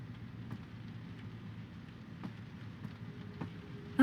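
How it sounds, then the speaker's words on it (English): Soft, steady rain in the Dreamfall Chapters video game, a faint continuous patter with a few slightly louder drops scattered through it. "How come it's always raining when I'm in here,"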